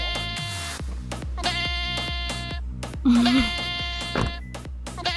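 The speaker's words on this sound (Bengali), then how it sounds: "ছাগল না, আমার ফোনের রিংটোন।" A phone ringtone of repeated goat bleats set over a rhythmic electronic beat, playing loudly and close inside a car.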